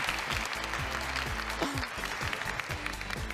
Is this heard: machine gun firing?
no